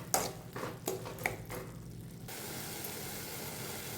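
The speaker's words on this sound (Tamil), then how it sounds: "தக்காளி வதங்கிட்டே இருக்கு" Tomatoes with tamarind and rock salt cook in a pan, with a few clinks of a utensil stirring at first, then a steady soft sizzle and hiss.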